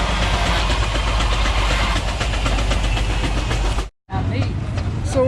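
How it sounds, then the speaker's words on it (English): A small steam engine drives a sawmill at an antique machinery show, making a loud, steady mechanical chugging and rumbling that cuts out briefly near the end and then resumes. "That's run by that little steam engine there."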